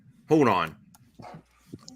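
A pet dog gives one loud, close bark, then softer whimpers and yips follow in an otherwise quiet room.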